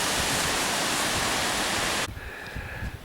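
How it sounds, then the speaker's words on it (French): A rushing mountain torrent in an Alpine valley roars as loud, steady broadband water noise, then cuts off abruptly after about two seconds, leaving a much quieter background with a faint tone. "Dans mon chemin, un beau vallon avec un beau vrai ruisseau."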